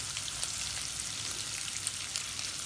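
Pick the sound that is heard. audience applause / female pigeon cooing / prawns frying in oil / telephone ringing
prawns frying in oil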